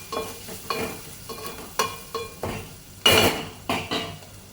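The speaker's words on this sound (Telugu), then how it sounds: "ఇలా ఒక 2 నిమిషాలు వేగిద్దాం" Onions frying with turmeric and salt in a pan, a spoon scraping and tapping through them in a steady run of about ten strokes over a soft sizzle, close by and with no talk.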